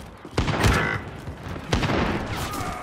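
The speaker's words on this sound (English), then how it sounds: "shooting at our mate." Gunfire in Call of Duty Modern Warfare near a hangar, with two loud close shots or blasts about a second apart, each trailing off into rattling reverberation and scattered background battle noise, with no talking.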